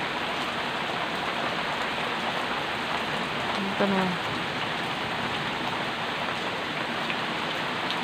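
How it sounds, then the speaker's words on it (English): Heavy rain pouring just outside a front door, a steady dense hiss of drops striking surfaces close by, with someone speaking briefly partway through. "it's raining so heavy, the rain's starting to blow on me"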